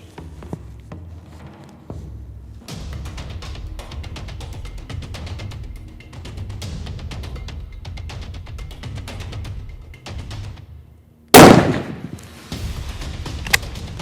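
A Sako 85 Brown Bear rifle chambered in .416 Rigby fires a single round. One loud, close, booming shot stands out near the end after a stretch of quieter rustling and handling noise.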